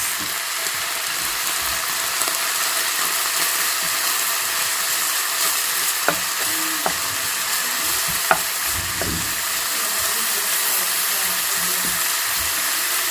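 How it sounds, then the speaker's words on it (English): A vegetarian spaghetti stir fry stirred in a sizzling pan, a constant close frying hiss with a few sharp utensil clicks and scrapes partway through, no talking. "Like this, I'm mixing it."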